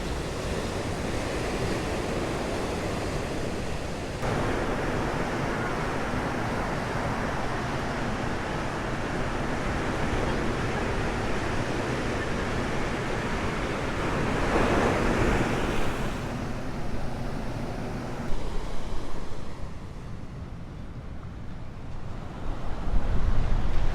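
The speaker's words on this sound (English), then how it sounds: "it's really nice to see the waves coming at you" Ocean waves break continuously at Dream Beach on Nusa Lembongan, Bali, a loud, steady surf roar with surges as sets roll in, mixed with wind rushing across the microphone and no voices.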